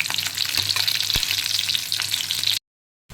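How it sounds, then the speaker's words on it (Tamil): Onions sauté in a pan for mushroom pepper masala, giving a continuous close sizzle with a few sharp crackles. The sound cuts off abruptly near the end. "இப்போ வெங்காயம் ஓரளவுக்கு பொன்னிறமாக வதங்கிடுச்சுங்க"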